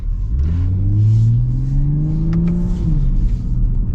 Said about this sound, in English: Got little popples out of the exhaust, which is always fun.